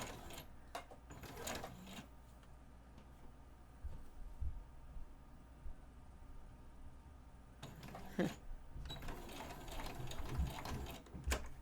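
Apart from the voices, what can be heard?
sewing machine stitching an inseam pocket seam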